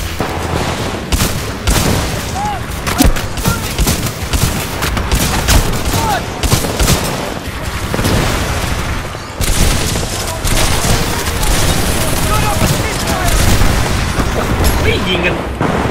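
Heavy gunfire and booming explosions in the shooter Titanfall 2, dense bursts of shots and blasts throughout, loud and close, with someone talking over the fighting.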